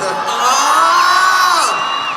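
A large crowd of fans at a concert screams and cheers continuously, high-pitched shrieks blending into a loud sustained roar.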